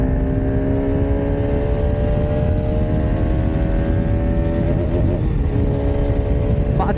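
Motorcycle engine pulling hard in fourth gear on a road ride from Siliguri toward Nepal, a steady loud drone with rising pitch as it accelerates, continuous throughout with wind noise.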